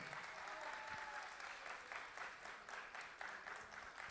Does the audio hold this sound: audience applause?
yes